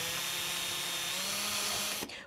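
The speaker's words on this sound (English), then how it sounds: "take a drill with a little drill bit on it and just drill straight through" A high-pitched power drill with a small bit whines steadily, grinding through aluminium, then cuts off abruptly near the end.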